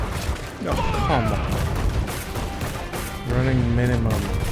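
Cannon fire from a ship battle in the video game Rogue Waters, dense booming volleys and crashing impacts rolling under a shouting voice and background game sound.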